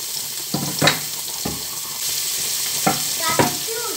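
Garlic and big onions fry in a pan for spaghetti bolognese, giving a soft, steady sizzle broken by a few sharp clinks and stirring scrapes over about four seconds.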